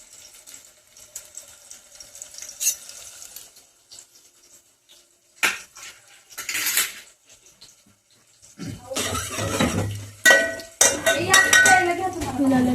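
Spoons and cutlery clink as they are taken out in a home kitchen, in sharp bursts among dish and pot sounds, with a running tap and water splashing near the end.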